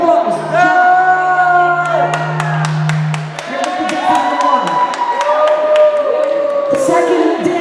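Crowd cheering, whooping and clapping for a dance-off contestant at a release party, loud and close, with sustained shouts and sharp claps over pulsing party music.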